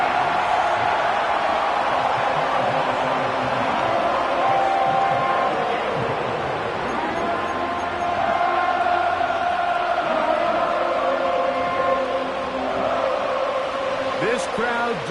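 A stadium crowd in an American football video game, Broncos at Chiefs in windy conditions, keeps up a steady roar beneath continuous play-by-play commentary.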